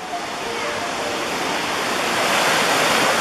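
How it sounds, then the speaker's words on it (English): Chittenango Falls roars continuously as a big waterfall, a dense, steady rush of water heard up close that swells slightly louder over the few seconds. "And there's the whole falls."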